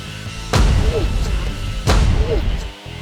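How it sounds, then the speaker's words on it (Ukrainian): A champagne cork shot out of a bottle in a speed experiment, heard as two sharp loud pops about a second and a half apart, each followed by a short hissing rush. "Стрілянина шампанським"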